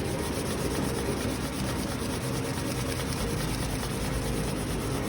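Aluminum foil is rubbed over paper on a homemade triboelectric nanogenerator, making a continuous close, rough, scratchy friction noise at low level.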